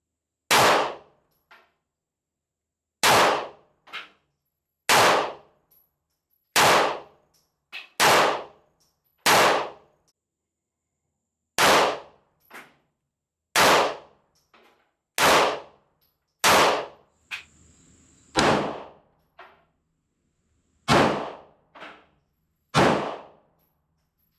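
Repeated gunshots at an outdoor shooting range from a handgun fitted with a budget red dot sight, about twenty sharp cracks fired in uneven bursts with short pauses, loud and close with no voices.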